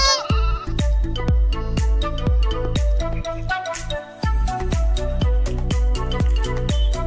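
An injured goat kept at home bleats again and again, loud and close, in a quick steady series of calls with brief pauses.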